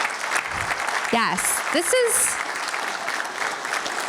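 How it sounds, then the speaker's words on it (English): An audience at a party district chair candidate forum claps steadily for the candidates, a dense, even patter of applause with a few brief voices over it and a squeaky chirp partway through. "let's give our candidates a round of applause"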